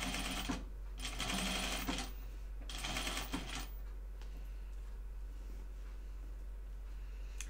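Sewing machine stitching fabric for a Tibetan chupa garment, running in steady mechanical bursts that stop and restart, fairly close and clear, with no talking.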